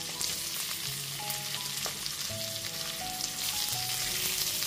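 Chopped onion and capsicum stir-fry in a pan for gravy chilli chicken, with a steady close sizzle and occasional stirring over quiet background music and no talk.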